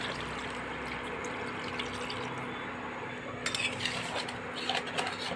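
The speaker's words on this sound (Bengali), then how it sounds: "এবার দেবো জল" Water poured into a pan of potato and cauliflower curry with spices, a steady low wash of liquid with faint clinks of utensil against the pan, growing slightly busier near the end.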